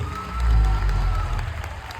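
Audience applauding and cheering at an awards ceremony in Raipur, a dense swell of clapping that peaks early and then settles into a steady wash.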